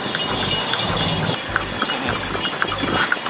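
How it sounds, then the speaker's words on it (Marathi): Horse hooves clip-clop steadily as a horse cart travels along a town road near a Ganesh temple, a regular close rhythm over rolling wheel noise with no talk. "घोडागाडीने यायचा आनंद वेगळा रिक्षापेक्षा।"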